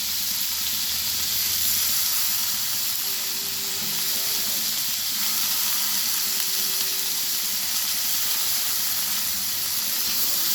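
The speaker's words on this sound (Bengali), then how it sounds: "ডাটাগুলো দিয়েও আমি ভালো করে আবার ভেজে নেব" Cauliflower stalks frying in a pan with vegetables, a continuous hissing sizzle with steam-like noise, steady and close, with no talking.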